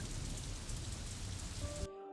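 Heavy rain pours steadily in a scene from an animated series, a dense, loud hiss that continues for about two seconds before cutting off abruptly.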